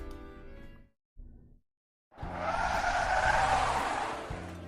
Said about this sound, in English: the sound of the bus departing fills my ears as I look all around me